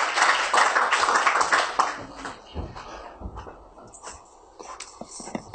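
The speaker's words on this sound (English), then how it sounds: "round of applause" An audience at an event in Nigeria gives a round of applause for Omoyele Sowore, with dense clapping for about two seconds that thins into scattered claps and shuffling, followed by a voice speaking.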